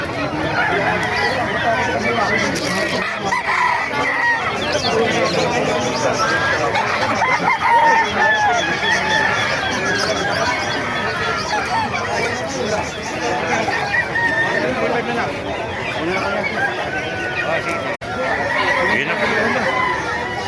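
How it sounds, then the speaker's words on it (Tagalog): Crowded poultry market in Bocaue, Bulacan packed with chickens and roosters; crowing and clucking rise steadily over a constant hubbub of voices and nearby conversation. "Maraming manok, dumagsak ang manok dito"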